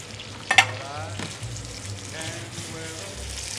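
Salmon fillets frying in a pan give a steady, close sizzle with a few sharp clicks and scrapes near the start, and there is no talk.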